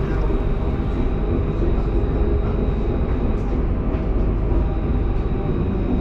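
Tram in Mulhouse passing the Banque de France: a steady, loud rumble of wheels and motor rolls on throughout with no pause.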